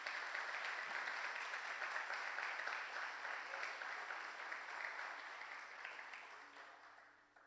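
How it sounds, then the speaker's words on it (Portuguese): A church congregation applauds during a service: steady, moderately distant clapping from many hands carries on for several seconds, then gradually fades toward the end. "Dê um aplauso bem forte para Ele"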